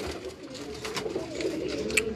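Low, gentle cooing from a Ferozpuri female pigeon on a Karachi rooftop, a few muffled throaty calls nearby over light ambient noise.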